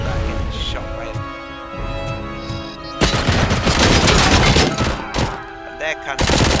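.50 caliber machine guns fire in the Robocop Rogue City video game, with heavy rapid bursts and thudding impacts that grow louder and denser halfway through, mixed with other game sounds.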